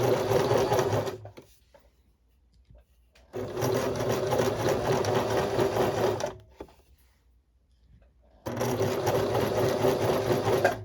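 Sewing machine back stitching a plain seam, running in loud, steady mechanical bursts of about one to three seconds separated by quiet pauses, close and with no talk.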